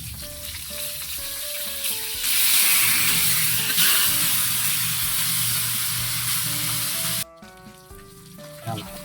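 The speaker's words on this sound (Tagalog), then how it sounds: "Pirito tayo ng bangus." Boneless milkfish (bangus) fries in a pan with a steady, close sizzle and hissing crackle that swells louder partway through, then suddenly drops away, with faint background music underneath.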